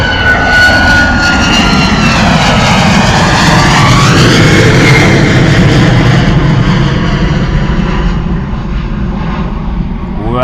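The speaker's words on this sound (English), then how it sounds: "Gorgeous departure from the Ryanair 737." A Ryanair Boeing 737 climbs away from Bristol Airport with loud, close jet roar and a sweeping whine that shifts in pitch as it passes, fading toward the end, with a voice briefly over it.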